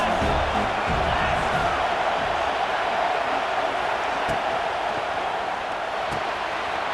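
Roar of a football stadium crowd during a game, a dense, steady wash of noise that holds loud and even throughout with no clear breaks.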